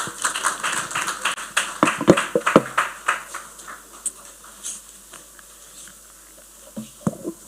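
An auditorium audience at a civil service policy dialogue gives scattered applause: a burst of claps at first, then thinning to sparse, isolated hand claps with no talk over them.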